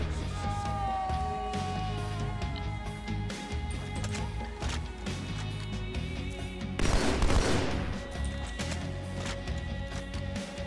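Weapon fire in Halo 2 rattles in dense bursts over game music and ambience, with a louder, heavier volley crashing in near the middle before easing back to steady background sound.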